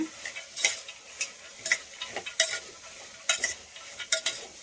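Soaked chickpeas cook in hot oil for a beetroot palya, with a faint sizzle broken by repeated sharp scraping bursts of a spoon stirring the pan, irregular and close.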